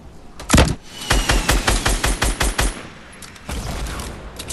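Fortnite Battle Royale gunfire: a heavy single blast, then a rapid string of about eight loud, evenly spaced shots, and after a short lull another burst of fire, all near and with no talk.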